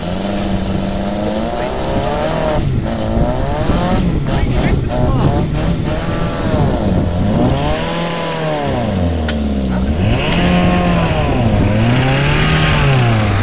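A Suzuki Samurai engine running after being driven windshield-deep into a lake, revving up and down in loud, repeated swells with a buzzy, slightly rough tone, and talk partly audible over the engine noise.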